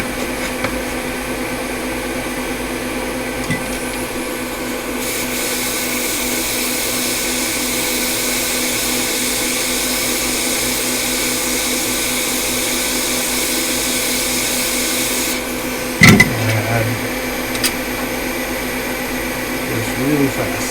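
A hot air tool blows a steady, moderate whoosh over a MacBook Pro logic board, board 820-3115, for most of the stretch with a constant fan hum beneath, then stops with a brief clunk and resumes faintly.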